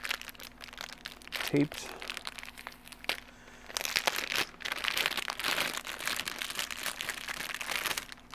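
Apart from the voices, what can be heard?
package of heart-shaped pasta being opened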